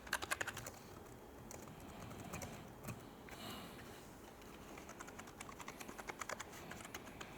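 Rapid clicking of keys on a computer keyboard, steady bursts of typing with brief pauses, fairly quiet and close, no voices.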